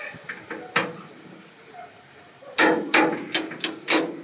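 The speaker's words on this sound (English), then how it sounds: "I want to pull steady until I hear that click." Several sharp metallic torque wrench clicks, one early and then a quick cluster of four or five, close and fairly crisp against a quiet workshop background, during Mitsubishi Montero repair.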